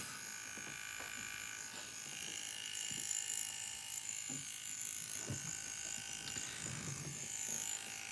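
Bronc X2 Neo tattoo machine running at 4 volts with a 5 mm stroke, a steady high-pitched buzz held at an even level throughout, with faint low knocks and handling sounds beneath it.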